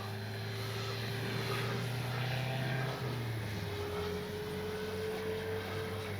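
A 1600mm RC P-51D warbird model plane drones steadily as it comes in for a full-flap landing, its engine tone holding loud and continuous, then shifting slightly in pitch partway through.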